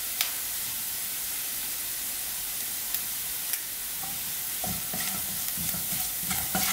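Sliced onions and green chilies with turmeric and salt sizzle steadily in a pan while being stirred, with a soft continuous frying hiss and occasional scraping taps of the spoon, heard alone.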